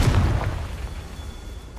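A Confringo blasting spell goes off in Hogwarts Legacy, a single booming burst up front that rolls away into a fading rumble.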